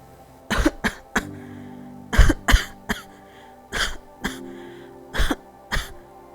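A string of harsh, wet coughs in uneven bursts, eight or so fits separated by short pauses, close and fairly loud with no speech.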